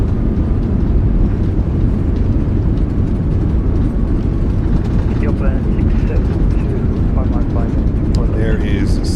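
In MSFS2024, an A380 decelerates after landing with its thrust reversers deployed, a loud, dense, steady roar with deep rumble. Simulated aircraft noise fills the whole stretch, and a voice talks over it.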